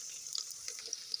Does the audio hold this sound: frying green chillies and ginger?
yes